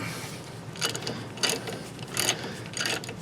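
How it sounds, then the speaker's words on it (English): A big ratchet working a rear brake caliper bracket bolt loose on a 2000 Chevy Silverado 1500 4x4, heard as four short, close bursts of rapid clicking with brief pauses between them. "there's a bracket right here, and this bolt and a big ratchet, you'll get her stuck"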